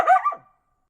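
A dog gives a single short bark, sharp and close, with a brief second pulse before it falls into silence.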